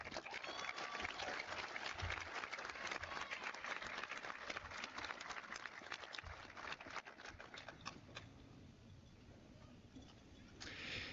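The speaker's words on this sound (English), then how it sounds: "A round of applause for our salutatorian." An audience at a high school commencement ceremony applauds the salutatorian, a faint, distant patter of clapping that thins out toward the end.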